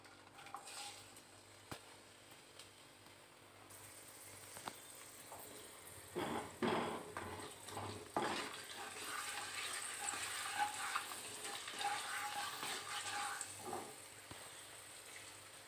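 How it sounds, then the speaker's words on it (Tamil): Cashews, raisins and cardamom with cinnamon and clove frying in ghee for pineapple kesari, a low sizzle that swells midway with clattering stirring and pan knocks, close and moderately loud, no speech. "முந்திரி, திராட்சை, ஏலக்காய் எல்லாமே நல்லா வறுபட்டுருச்சு"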